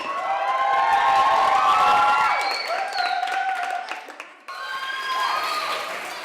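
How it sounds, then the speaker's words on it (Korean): A crowd of participants claps and cheers loudly for children from the El Shaddai orphanage, with high excited shouts and whoops over steady applause that dips briefly, then resumes. "아이들에게 참가자들은 박수와 환호를 보낸다"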